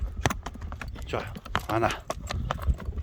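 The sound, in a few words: horse hooves clip-clopping as it is walked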